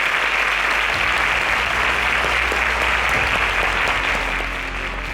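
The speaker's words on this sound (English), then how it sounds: "A round of applause for him." A studio audience at a competition show gives sustained, loud applause for a contestant, with dense clapping throughout that eases slightly near the end.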